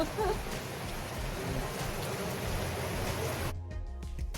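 Rain falling during a train trip to Hatton in the Sri Lankan hill country: a steady, dense hiss of rainfall, fairly loud and close, that cuts off abruptly near the end.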